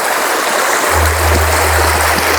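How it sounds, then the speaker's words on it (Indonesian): A fast-flowing river rushes beneath a makeshift bridge in a teak forest, giving a loud, continuous watery roar close by, with a low steady hum joining in partway through. "jembatan darurat mengalir sungai yang sebenarnya sungainya cukup deras"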